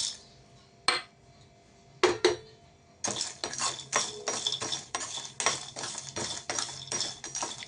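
About a tumbler of peanuts being lightly dry-roasted in a pan and stirred: a few separate clinks of utensil on the pan, then a steady run of close, rhythmic scraping and rattling strokes, with no talking.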